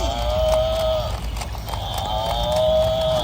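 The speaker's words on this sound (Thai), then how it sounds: "มีใครได้ยินเสียงควายร้องไหม" A green toy buffalo gives loud electronic moos, two long drawn-out tonal calls separated by a short pause, close and clear with no one talking over them.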